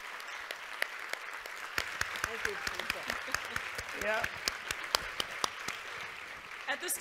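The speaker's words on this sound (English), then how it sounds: "Please let us give a round of applause for this amazing conversation we've just participated in and witnessed." An audience at an author conversation event claps steadily for several seconds, a dense patter of hands filling a hall with scattered louder individual claps and a few voices murmuring underneath.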